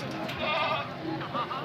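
Goats bleating at a roadside goat market near a buffalo colony, wavering calls heard close amid a busy crowd, with voices talking underneath.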